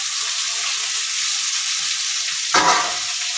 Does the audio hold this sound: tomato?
yes